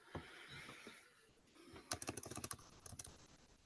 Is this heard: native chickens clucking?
no